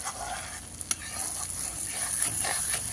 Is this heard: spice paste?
yes